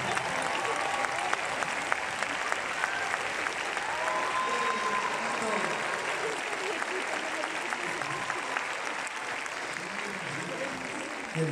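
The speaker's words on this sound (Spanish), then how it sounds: "Ese aplauso bonito, vamos a ponerlo todos de pie" A standing audience at a concert in the Auditorio Nacional fills the hall with loud, continuous applause, a thick sustained roar of clapping that carries on for over ten seconds with faint voices mixed in.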